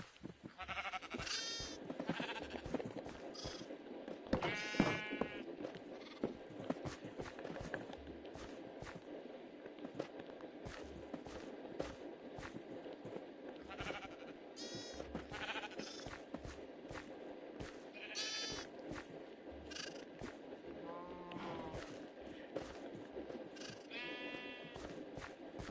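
Sheep in the Minecraft video game bleat repeatedly, with short wavering cries spaced every few seconds over a continuous bed of game noise and soft footstep-like taps.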